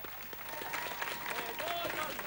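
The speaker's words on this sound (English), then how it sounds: "Give them a big round of applause." An audience applauds dancers, with fairly quiet, scattered clapping and voices talking over it.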